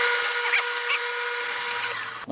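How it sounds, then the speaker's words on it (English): A drill bores a small center hole into UHMW plastic, making a continuous high whine that runs steadily for the whole stretch, close and fairly loud, with faint clicks and a low hum underneath. "I just need to drill a little bit of a center hole."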